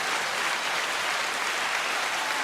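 Canned applause sound effect from a soundboard button, dense steady clapping and cheering at even loudness for the whole stretch, with no talk over it.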